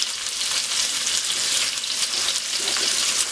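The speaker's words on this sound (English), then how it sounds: "That will all go into the wok. Stir fry that up." Freshly chopped garlic, mushrooms and cabbage stir frying in a hot wok, a loud, dense sizzle with crackling and scraping throughout, close up.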